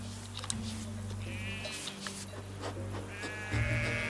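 A flock of ewes out in the field bleats in overlapping calls, with several drawn-out bleats close by over a steady low rumble.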